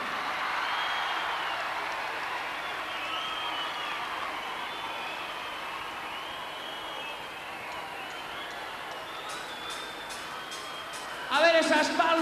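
A large concert audience at a show in Santiago de Compostela keeps up a steady, broad wash of clapping and crowd noise, fairly distant and even throughout, swelling slightly at the end.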